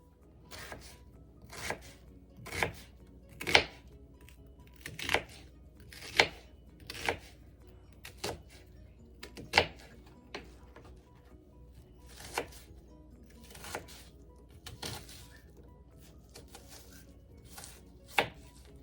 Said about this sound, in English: now I'm just going to cut it into small chunks